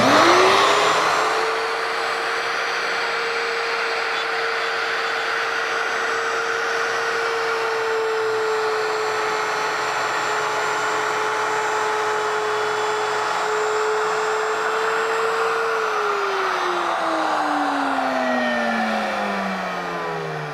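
A router cutting fin slots in high-power rocket tubes spins up quickly to a loud, steady high whine. It holds that pitch and then winds down with a falling tone near the end.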